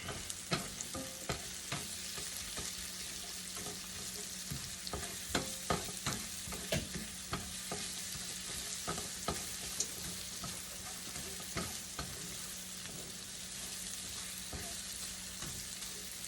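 Onions frying in butter in a pan, giving a steady, close sizzle with scattered crackles and stirring clicks throughout, no voices.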